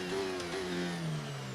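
F1 car engine in the F1 23 racing game at a race start: a brief, mid-pitched revving drone that holds steady and then dips slightly, moderately loud, with no speech.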